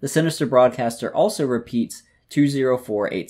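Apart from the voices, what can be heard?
None of the usual background noises is heard.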